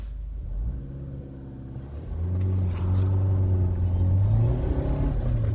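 A car pulls away from a standstill in first gear, its engine rising from a low idle into a loud, climbing rumble that holds strong and close for the rest of the clip.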